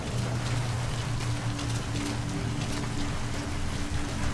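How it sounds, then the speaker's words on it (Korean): Steady rain falls in Metal Gear Solid 5: The Phantom Pain, a constant hiss of drops on the ground with a low rumble underneath, moderately quiet and unbroken, with no voices. "지금 빗소리 때문에 발소리가 묻히는구나"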